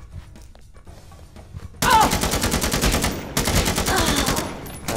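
Rapid automatic AK rifle fire in the video game XIII erupts loud and sustained after a quiet opening, with dense bursts continuing to the end and a brief dip partway through.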